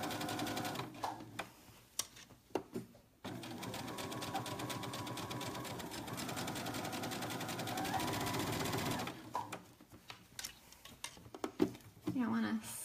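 A domestic sewing machine stitches a seam on a pair of joggers in a sustained mechanical whirring run through the middle, with short bursts of talk and handling before and after.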